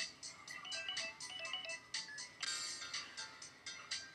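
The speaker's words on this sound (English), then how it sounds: "the conversation grinds to a halt when Misaki's phone trills in her hand" A mobile phone in Lucid9 trills with a quiet, rapid electronic ringtone that repeats in short bright pulses, alone without speech.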